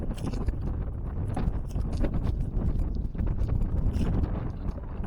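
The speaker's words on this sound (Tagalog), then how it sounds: "Malakas yung hangin, lumakas yung hangin mga katinik." Strong wind buffets the microphone in a steady, loud low roar with gusty surges, and no voices are heard.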